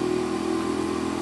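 A car exhaust rumbles steadily at close range, a deep, throaty engine note held without speech.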